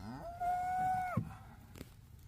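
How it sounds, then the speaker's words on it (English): One cow in a pasture herd gives a long, loud, steady moo close by that drops off abruptly at the end, followed by faint outdoor rustling. "Cows, moo! Look, she answers."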